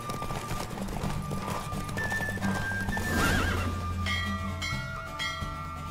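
A horse gallops in The Witcher 3 video game, rapid clip-clop hoofbeats under a whinny, with bell-like tones and game music ringing over the steady run.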